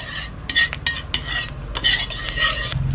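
A little cooking oil sautéing in a pan for a Filipino dish of beef skin and meat, heard as close metallic scrapes and clinks of a utensil stirring in bursts over a faint background hiss.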